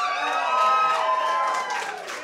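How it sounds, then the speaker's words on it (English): Audience at a poetry slam cheering and whooping in a sustained, loud crowd roar with shouts layered together, fading slightly toward the end. "If you happen to like something, you cheer madly."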